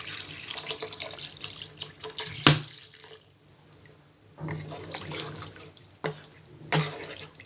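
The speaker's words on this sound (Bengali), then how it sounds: "এবার পরিমাণ মতো পানি দিয়ে মাছটাকে রান্না করে নিব।" Water poured into a pan of shol fish curry with peas, a close splashing and trickling stream that pauses and resumes in short bursts, with a few drips.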